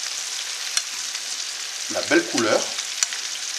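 Chicken pieces deep-frying in hot oil for General Tao chicken, a steady bubbling sizzle throughout with a brief voice speaking over it near the middle.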